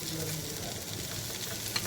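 Stuffed okra coated in green masala frying in a pan, a continuous crackling sizzle with steady oily spatter close to the pan and one brief sharper pop near the end, with no one talking.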